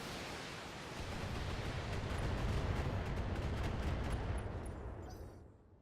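Mech weapons firing in BattleTech, a loud sustained barrage of rumbling blasts and impacts that swells then tapers off.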